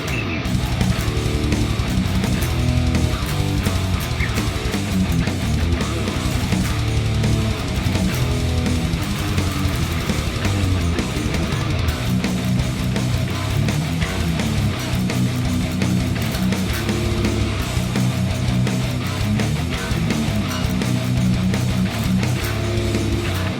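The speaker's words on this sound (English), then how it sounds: "how to play power metal on a 7-string guitar" Dense, driving distorted seven-string electric guitar riffing in a fast power metal style, loud and continuous throughout with no talking.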